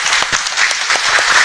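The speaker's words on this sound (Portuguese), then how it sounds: "uma salva de palmas também para ela" A church congregation claps to welcome a newcomer, a dense, even burst of applause with a few louder individual claps standing out, with no talking.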